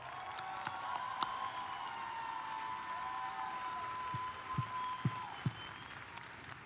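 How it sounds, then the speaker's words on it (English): An audience at a high school graduation ceremony applauds the Showstoppers performance in a broad, steady sustained clapping, with a few louder nearby claps and a ringing tone underneath. "Let's give Showstoppers one more round of applause."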